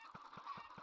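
Minecraft chickens crowded into a corner, four short evenly spaced clucks over a faint steady background, quiet and close.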